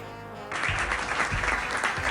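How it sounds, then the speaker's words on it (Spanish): Audience applause breaks out at a Spanish-language talk show, a sudden dense burst of clapping that starts after a brief lull and holds steady, fairly close and loud. "un aplauso."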